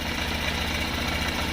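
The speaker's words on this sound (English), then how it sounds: "the engine's definitely making a slightly different noise" A Honda motorcycle engine fitted with a new high compression piston runs at a steady idle, a close, even throbbing rumble with a rhythmic low pulse and a slight mechanical knock, no talk.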